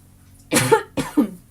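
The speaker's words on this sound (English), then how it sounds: "I'm so sorry, I keep coughing today." Two sharp coughs close to the microphone, about half a second apart, each a harsh burst followed by a short throaty tail, with no talking.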